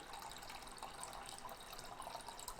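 Liquid pours steadily into a container while cooking, a soft continuous splashing gurgle, fairly faint and close, with no talk over it.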